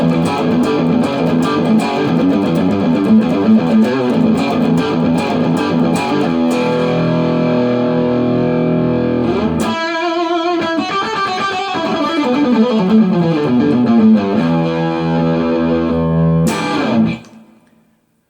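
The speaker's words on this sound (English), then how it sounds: "you can take this pedal to the max and just get some serious sustain for solos" An electric guitar runs through a distortion pedal cranked to maximum, playing a thick, heavily sustained solo line of bent and held notes that cuts off sharply at the end, with no talking over it.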